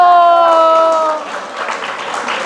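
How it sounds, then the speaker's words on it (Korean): Applause from a church education gathering, following a sustained tonal chord that fades as a moderate wash of clapping takes over. "감동받아 박수 쳐주세요"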